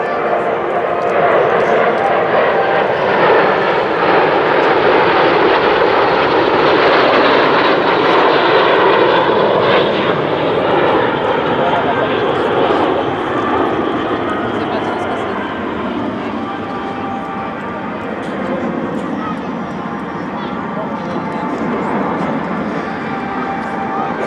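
Breitling Jet Team jets making a pass during the Belgian Air Force Days 2018 airshow: a loud, sustained engine roar that holds strong and eases slightly toward the end, with a public-address announcer likely talking underneath.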